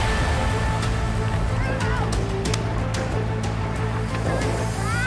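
Waves surge and slosh around racing boats at a regatta during the 28th Araw ng Daron festivities, a steady rushing wash of water under a loud commentator's voice talking throughout.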